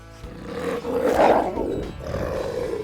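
Wolves, a dominant male and his brother, growl and snarl in ritualized aggression, a close, rough roaring rumble that swells loudest midway and then continues at a lower level.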